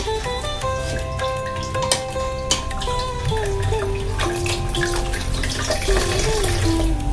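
Tap water runs steadily into a sink while food is rinsed under it for a rasmalai recipe. The splashing is close and continuous, with occasional clinks and knocks from handling, and no voices.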